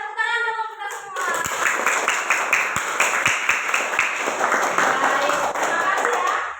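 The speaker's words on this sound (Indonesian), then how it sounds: "Tepuk tangan dong untuk kita semua." A classroom group claps together in sustained, dense applause lasting several seconds, loud and close, following a brief spoken voice at the start.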